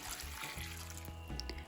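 About two liters of water is poured from close by into a thick-bottomed bowl of chopped apples, a steady wash of running liquid lasting under two seconds with no voices.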